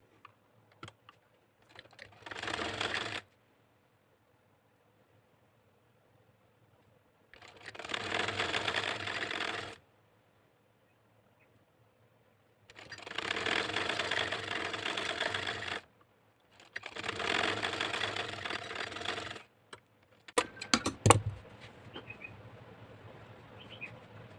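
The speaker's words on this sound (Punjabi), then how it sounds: "ਉਸ ਤੋਂ ਬਾਅਦ ਹੁਣ ਆਪਾਂ ਨੇ ਇਦਾਂ ਸਲਾਈ ਲਗਾ ਦੇਣੀ ਹੈ" A sewing machine stitches lace onto a sleeve in four separate runs of rapid mechanical chatter, each a few seconds long with quiet pauses between, followed by brief handling clicks.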